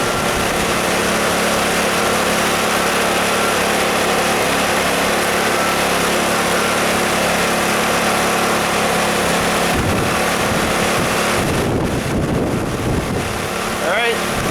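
A Ryobi 2200 inverter generator runs outdoors with its engine droning steadily and loudly, partly masked by heavy wind buffeting the microphone.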